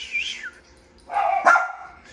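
Several dogs bark eagerly at close range as they gather for chew treats, with a louder burst of barking in the second half and a brief yip at the end.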